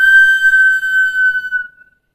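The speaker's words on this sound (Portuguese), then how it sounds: "Eu tenho aqui um apito" A single shrill whistle blast, held steady for under two seconds and then cut off, loud and close, followed by silence.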